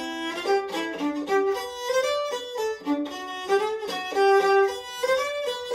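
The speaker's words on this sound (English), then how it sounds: "I'm going to play a little bit on this treble viol," A bowed early Renaissance treble viol, guitar-shaped rather than gamba-shaped, plays a slow melodic line of sustained, overlapping notes, close and clear with no voices.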